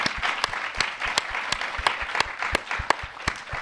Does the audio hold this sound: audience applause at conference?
yes